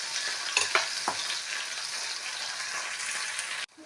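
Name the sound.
frying dried shrimp with onion and green chillies in oil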